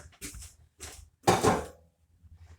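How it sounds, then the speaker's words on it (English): An old pan shifted across a kitchen stovetop while making Christmas crack candy: three short scraping, clunking knocks of metal, close and distinct, the middle one loudest, with faint thuds trailing after. "So let's move this old pan over here"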